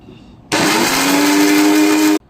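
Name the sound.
mixer jar grinding onions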